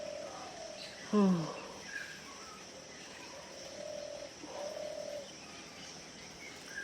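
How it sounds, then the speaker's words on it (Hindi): Early morning birds call outdoors: a sharp close chirp stands out early, followed by soft repeated dove-like coos and faint distant tweets over a quiet steady background. "कितना चिड़िया बोल रहे हैं,"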